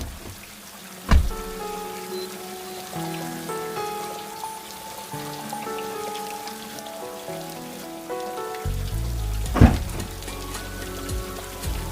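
Rain falls as a sound effect in a Malayalam audio drama, a soft steady patter running under gentle music throughout, with a couple of brief louder knocks and no speech.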